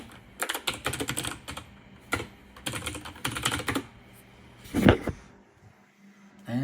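A password typed on a computer keyboard, with clusters of quick, close key clicks in short bursts, then a louder single tap and a pause, with no talk over it.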